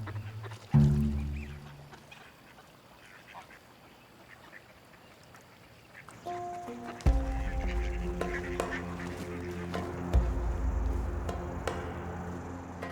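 A duck in an Arabian wetland quacks in short nasal calls over a constant low rumble of outdoor background noise, moderately near, with louder bursts midway and near the end.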